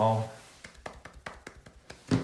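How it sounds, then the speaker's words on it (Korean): A small group claps briefly in a studio setting, roughly a dozen distinct, slightly irregular hand claps following a short spoken word and ending with a voice. "박수"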